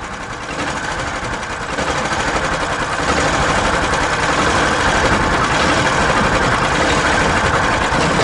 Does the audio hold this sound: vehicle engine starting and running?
yes